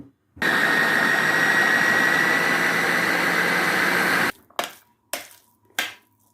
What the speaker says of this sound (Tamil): இப்போ நாங்கள் இது நல்ல பசையாக அடிக்க தேவையில்லை அரை பதத்துக்கு இப்படி அடிக்கிறோம்